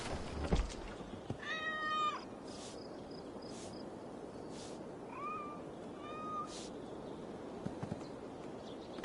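A cat in an open-world Viking-era game gives a few short meows, one near the start and a softer pair later, over a steady outdoor ambience with a brief thump at the beginning.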